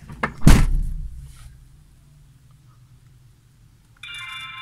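A car door slams shut with one heavy, loud thud that fades into a quiet hum, followed by an electronic chime-like beep as a dashcam turns on.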